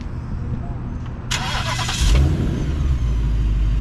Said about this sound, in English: It says start engine request has been sent to the Mustang GT.